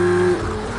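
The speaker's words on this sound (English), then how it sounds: "Ease the car through with the throttle." Race car engine in Project Cars 2 at Donington, a steady held engine tone for about a third of a second that then drops away into rougher, lower running noise. It is fairly loud and close, with no one talking.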